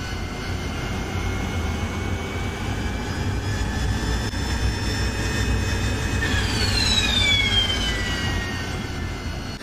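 Harrier AV-8B jet engine spooling up in the DCS World flight simulator, a steady loud turbine roar with whining tones that climb and sweep sharply upward in the last few seconds.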